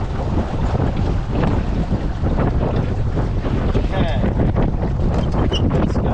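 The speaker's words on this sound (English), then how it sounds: "Well, we've got a bit of wind." Strong wind buffeting a sailboat out on a lake during a long tack, loud continuous rushing gusts and microphone wind noise with water splashing against the hull, steady and close throughout.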